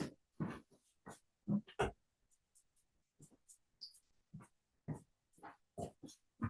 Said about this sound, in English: As you guys can hear, I got the dog.